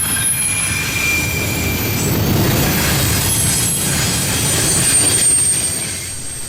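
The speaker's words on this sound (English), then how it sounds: "Our first train is Norfolk Southern Train 23G, an eastbound, mostly international intermodal land bridge from Louisville" A Norfolk Southern eastbound intermodal freight train rolls steadily past at close range, a loud continuous rumble with squealing wheels and a faint rhythmic clatter.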